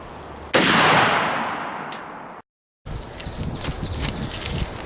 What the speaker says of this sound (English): when I shot this steel with 150 grain Federal 308 ammunition, this steel does not stand up.